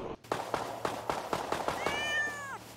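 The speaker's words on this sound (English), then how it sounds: "It's the fucking cat!" A cat in the video game Rust meows once, a clear rising-and-falling cry, after a series of rapid sharp clicking or tapping sounds close by.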